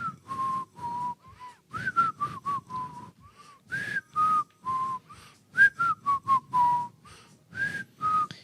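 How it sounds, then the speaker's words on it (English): Someone whistles a lively tune up close, in short bursts of clear, melodic notes with brief pauses between phrases. "New whistles. New types of whistles every week."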